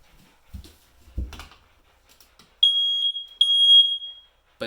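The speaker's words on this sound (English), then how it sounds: "This one's supposed to make a loud chirping sound" Old 1990s smoke alarm chirping, two sharp high-pitched electronic beeps of about half a second each in quick succession after some quiet handling clicks, loud and close.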